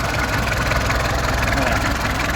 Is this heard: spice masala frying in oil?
no